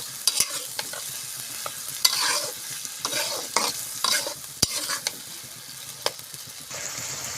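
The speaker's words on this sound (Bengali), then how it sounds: "আমি এবার আলুটা একটু কষাই নিব সরিষা বাটা দিয়ে পেঁয়াজের সাথে।" Potatoes sautéed in a pan with mustard paste and onion, a spatula scraping and stirring in irregular bursts over a low, steady sizzle, close and fairly loud, with no talking.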